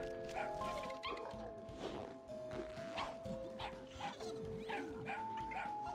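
Dog barks from the Dog Walker zombie in Plants vs. Zombies, a string of short yips and barks spread through the clip. They sit among other game sound effects and are fairly faint.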